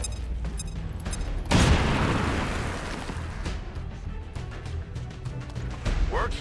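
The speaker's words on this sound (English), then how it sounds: "Grenades are not as lethal as firearms, but can damage multiple units and destroy cover and walls." A grenade detonates in the XCOM 2 strategy game with a single loud boom partway through, followed by a long rumbling decay and scattered softer impacts and debris.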